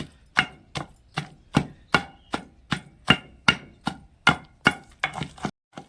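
Ivy gourd chutney with garlic pounded by hand, about thirteen sharp, evenly spaced thuds in a steady rhythm, close and loud, the last few quicker and lighter before stopping.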